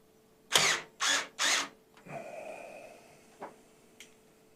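Screws being driven into a Jonsbo C6 PC case with a power driver: three short loud whirring bursts in quick succession, then a quieter, longer mechanical whir and a couple of small clicks, close up.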